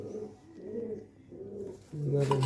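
Pigeons cooing nearby in soft, repeated low warbles, several calls in a row, with a brief louder burst of noise at the end.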